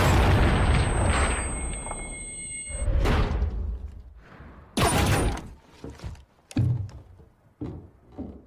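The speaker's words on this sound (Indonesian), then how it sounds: "Carter pun langsung melepaskan tembakannya" A rifle shot rings out in a tense film scene, a loud sharp boom with a long decaying tail, followed by further heavy impacts and thuds spaced over several seconds, no talk.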